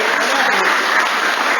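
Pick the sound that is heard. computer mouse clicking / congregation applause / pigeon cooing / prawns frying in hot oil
congregation applause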